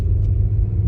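Manual-transmission car engine idling steadily in first gear after the clutch is released, a close, continuous low rumble with no talk.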